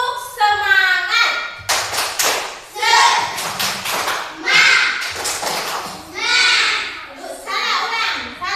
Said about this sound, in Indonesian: Ibu minta kita sama-sama tepuk semangat.